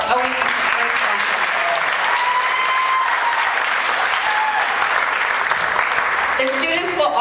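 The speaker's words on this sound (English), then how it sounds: "Please give them a round of applause for always being a great sponsor." An audience at an Academic Decathlon awards event applauds a sponsor with steady, even clapping that lasts the whole stretch, with faint voices underneath.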